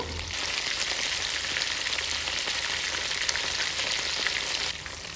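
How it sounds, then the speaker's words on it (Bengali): Prawns fry in hot oil, a dense, even crackling sizzle held steady and close throughout, with no voices, easing slightly at the very end. "প্রনগুলো খুব ভালো করে উল্টে পাল্টে ভেজে নেব।"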